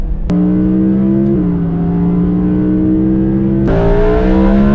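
Audi R8 V10+ fitted with a Valvetronic exhaust and no rear bumper, its V10 idling loud and close with a steady droning tone that rises in pitch in two brief blips, with no talk over it.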